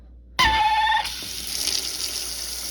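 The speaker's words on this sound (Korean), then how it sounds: "물이 나오나 안 나오나 볼까요?" Water bursts suddenly from a newly installed imported kitchen faucet and keeps running steadily into the sink, a loud, hissing, even flow after an abrupt start, close by.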